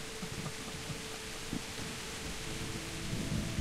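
Rain and thunder in the video game Kingdom Come: Deliverance, a steady hiss of rainfall with low rumbling beneath it and a few soft thumps, alone without voices.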